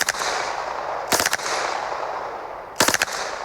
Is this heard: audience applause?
no